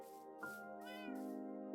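A cat in the Minecraft video game meows twice in quick succession, a clear close tonal game sound set over steady background music with no talking.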